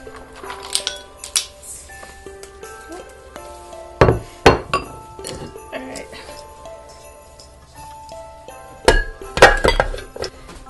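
Flour, baking soda and a quarter teaspoon of salt are mixed in a bowl for a German sweet chocolate cake. Scattered spoon scrapes and clinks are broken by a few bursts of louder knocking against the bowl.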